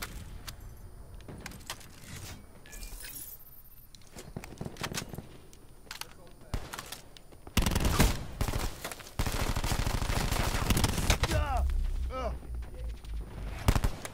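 Rapid automatic gunfire in the shooter game Black Ops 4. Scattered shots lead into a long, loud, dense stretch of continuous firing in the second half, with a few brief gaps.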